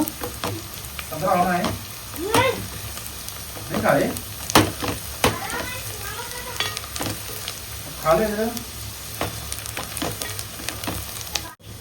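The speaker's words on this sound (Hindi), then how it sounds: "फिर वही तेल में प्याज और हरी मिर्ची डालेंगे।" Onions and green chillies fry in hot oil, a steady close sizzle with occasional stirring, while someone talks intermittently over the cooking.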